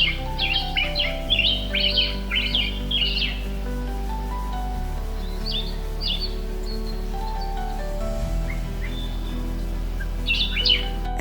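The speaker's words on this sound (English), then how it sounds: "Every morning, birds would sing beautiful songs." Birds chirp and sing in repeated bright bursts over a steady low hum, the calls clustering at the start, middle and end with quieter gaps between.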